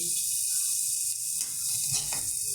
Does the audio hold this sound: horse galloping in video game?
no